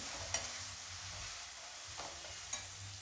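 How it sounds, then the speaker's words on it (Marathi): Tomato sautéed in a pan for a coriander bhaji, a soft steady sizzle with a few light spoon taps against the pan, fairly faint and close. "आता मी हा टमाटर घालते। हेही परतून घ्यायचं आहे।"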